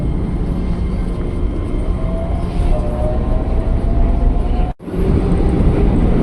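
Inside a moving KRL commuter train heading to Manggarai, a loud, steady rolling rumble with a rising electric motor whine, briefly cut off for a moment before resuming.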